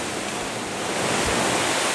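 Saint Nectan's Glen waterfall roaring close by, a steady dense broadband rush of falling water with no pauses, loud and continuous with no voices.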